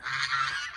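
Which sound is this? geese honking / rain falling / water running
geese honking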